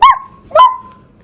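A person imitates a dog with two short, loud vocal barks, close up and separated by a brief pause.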